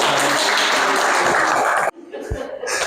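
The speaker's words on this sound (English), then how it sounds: "Little round of applause for us." An audience at a beekeeping club talk applauds for about two seconds in a dense, even wash of clapping that cuts off abruptly, leaving a quieter room with a faint voice.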